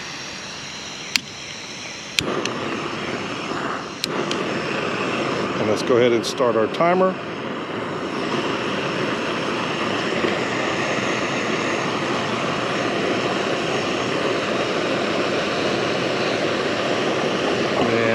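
A Jetboil Flash camping stove burner is lit and roars with a steady, loud, broad hiss after a few clicks and knocks, close up, with a person talking briefly over it.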